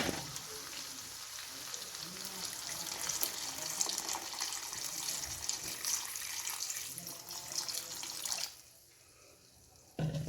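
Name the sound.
pouring water into chicken curry for gravy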